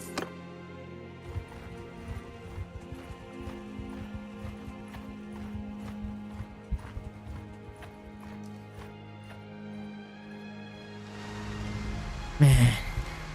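Horse hooves clip-clop at a steady gallop in the Bannerlord video game with The Old Realms mod, a continuous rhythmic drumming close by, ending with a brief louder burst of noise.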